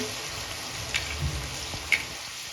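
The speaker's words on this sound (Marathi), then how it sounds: "आधी आपल्याला बटाटे फ्राय करून घ्यायचे आहे" Raw potato pieces fry in hot oil for sabudana khichdi, a soft continuous sizzle and crackle with a few sharper pops standing out, fairly quiet and close.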